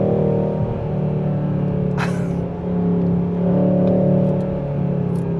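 A 2025 Hyundai Sonata engine pulls hard under acceleration, a steady loud rumble with rising revving tones heard from inside the car, plus a brief whoosh partway through; nobody speaks.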